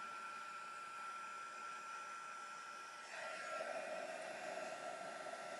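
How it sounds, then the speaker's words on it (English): A heat gun for embossing blows hot air in a constant, steady roar close by. About halfway through the tone shifts slightly as the airflow changes, with no voices over it. "always make sure that your heat gun is hot before you start melting"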